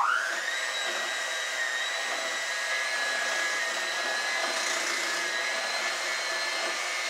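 An electric mixer blends ingredients in a mixing bowl while baking at home for Easter, giving a steady, loud motor whine that holds constant for several seconds with no talking.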